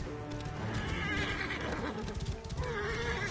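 Horse neighing and whinnying in Assassin's Creed Origins, with hoof clip-clop beneath, loud and close over a busy game soundscape for a few seconds.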